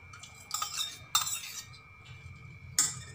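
Curd being mixed into soaked poha in a bowl with a spoon, giving a few soft scraping clinks and wet stirring sounds at close range, with sharper spoon knocks against the bowl.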